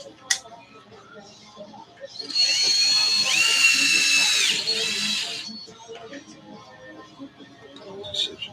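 A power drill whines in a steady, high-pitched burst of about three seconds, fairly close and clear, with quieter rustling and handling noises before and after it.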